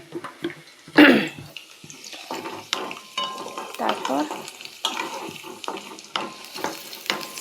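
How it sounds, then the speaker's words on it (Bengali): Potatoes fry in a pan with a close sizzle and bubbling, punctuated by repeated scraping and clattering stir strokes. A voice speaks briefly. "এখন আলুটা ভাজছি"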